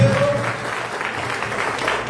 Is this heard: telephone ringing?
no